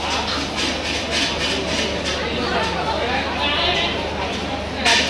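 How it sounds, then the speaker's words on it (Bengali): A busy railway station carries a continuous wash of crowd chatter over the low rumble of a train, loud and close with no pause. "এখন আপাতত সাউথের স্টেশনে।"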